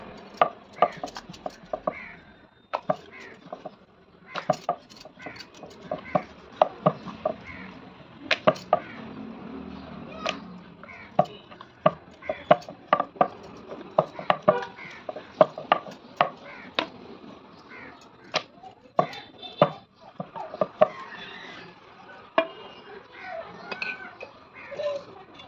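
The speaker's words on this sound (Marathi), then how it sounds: "आणि आता चपातीप्रमाणे याला आपल्याला लाटून घ्यायचं आहे।" A rolling pin works moong dal and maida dough into a flat, chapati-like round for khari mathri, making sharp, irregular taps and knocks on the board, close and repeated throughout with quiet gaps between them.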